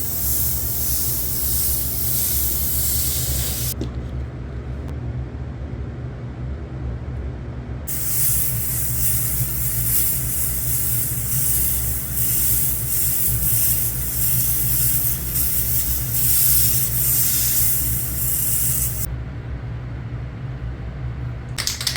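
Airbrush spraying red paint, a continuous close hiss that cuts out briefly twice and resumes, running steadily over a low mechanical hum, with no talking.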